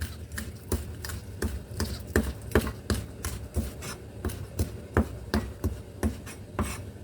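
A knife slices spring onions on a cutting board in quick, steady rhythmic chops, close and crisp, with a faint background hum.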